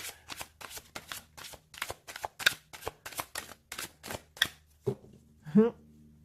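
Tarot cards are shuffled in a steady run of crisp riffling bursts, about a dozen in quick succession, ending with a couple of heavier softer handling sounds as cards are pulled.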